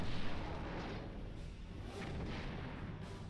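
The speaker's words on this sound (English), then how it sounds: "Warbird uncloaking, sir. They're firing on us." Romulan Warbird weapons fire hitting a ship in the Star Trek Bridge Commander game: a dense, continuous booming rumble, loudest at the start and then holding steady, with no voices over it.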